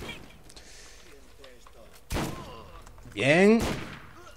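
Rifle shots in the video game Borderlands, two sharp loud bangs spaced about a second and a half apart, with a brief voiced exclamation between them over quieter game sounds.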